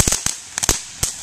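Several sharp firework bangs pop in an irregular burst, loud and close, with short gaps between them.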